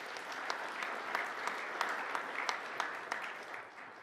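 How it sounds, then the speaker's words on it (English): An audience applauds a speaker, a fairly faint, distant wash of many hands with a few sharper individual claps standing out before it tapers off. "Let's give him a big round of applause."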